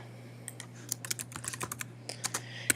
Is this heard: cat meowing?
no